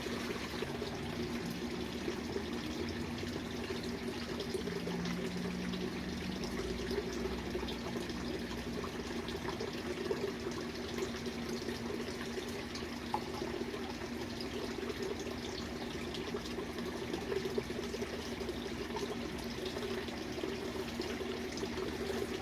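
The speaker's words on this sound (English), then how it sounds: "I'm going to add water." Water pours and trickles steadily into a desert rose seed tray for a long stretch, a soft continuous splashing with no talk over it.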